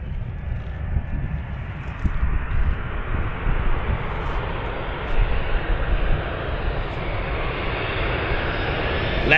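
A fixed-wing aircraft on a fast landing approach roars steadily overhead, its engine noise broad and loud, growing slightly closer over several seconds with no talk.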